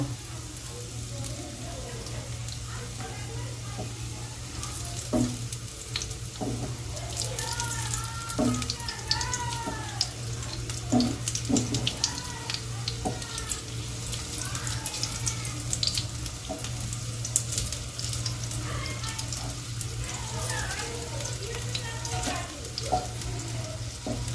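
Oats tikki fry in oil in a pan on medium heat, flipped to cook both sides, giving a steady, quiet sizzle with occasional soft clicks and scrapes over a low background hum.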